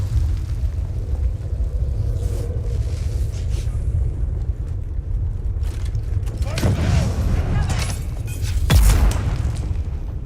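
Explosions strike the player in Dune Awakening: a low rumbling background is broken by two heavy booms a couple of seconds apart, the second deeper and louder.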